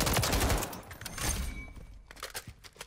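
Rapid gunfire in Call of Duty MW3, a dense burst of shots followed by scattered sharper cracks and impacts, loud and close with no talk.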